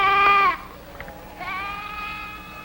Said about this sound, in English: Take your 8 sheep.